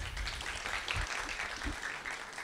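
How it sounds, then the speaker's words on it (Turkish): A television talk-show studio audience claps continuously, a full, even wash of many hands at moderate volume with no voices over it. "Şevval Hanım tanıyanlar alkışlayabilir mi?"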